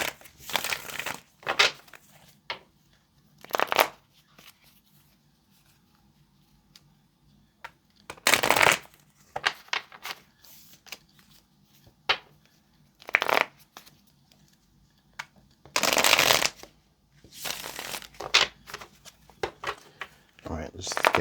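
Tarot cards are shuffled in several short, crisp bursts of riffling and flicking, spaced through the stretch with quiet gaps between them, close to the mic and without talk.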